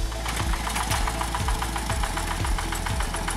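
A hand tractor's small engine chugs in a loud, fast, steady knocking rhythm while it is driven through a muddy rice paddy during planting season, close up and uninterrupted.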